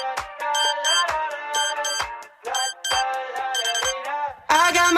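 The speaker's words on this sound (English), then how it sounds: "Me and my dreams vibrating to my alarm that has been ringing the past half an hour." A phone alarm ringtone plays a bright repeating melodic pattern of chiming tones in short phrases, loud and close, with no voices.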